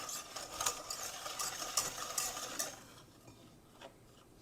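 A whisk scrapes and clinks through a cocoa mixture for chocolate pudding in a bowl, in quick rhythmic strokes that carry for a few seconds and then fade to a few faint taps.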